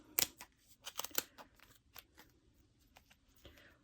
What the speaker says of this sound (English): take some smaller scissors and cut. Basically put the scissors against this channel and cut all the way around